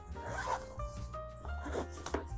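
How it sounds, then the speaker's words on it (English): Zipper pulled open on a rolling underseat bag, a close, steady rasping run lasting a couple of seconds with faint rubbing of the fabric around it. "I use the zipper"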